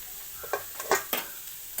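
Spoon scraping and stirring ash gourd peel thoran with grated coconut in a pan, a few soft clicks and scrapes over a faint hiss, close and brief.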